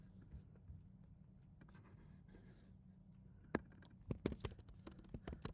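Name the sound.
writing notes down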